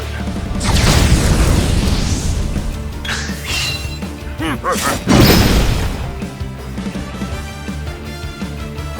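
A fire spell in the role-playing game Octopath Traveler II, with whooshing bursts and booming impacts over game music, and a voice calling out partway through.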